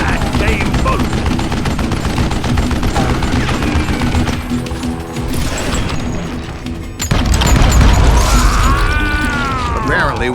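Rapid gunfire in the Western shooter Call of Juarez Gunslinger, loud bursts of shots and booms running continuously with game music and effects, a voice talking over it.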